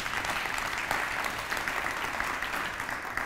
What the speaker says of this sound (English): so give yourselves a big round of applause for that